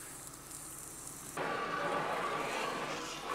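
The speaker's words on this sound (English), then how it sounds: "Sorry about the noise from the water." Water sprays onto an Infiniti G35 around the sunroof, starting as a soft hiss then abruptly becoming a louder, broad rushing spray that continues steadily.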